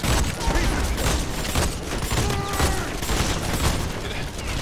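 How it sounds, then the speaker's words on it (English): Rapid gunfire rattles in The Expendables 2 video game: dense bursts of shots and booms come in close succession, with a busy, loud battle din throughout. "back to rapid fire gunner"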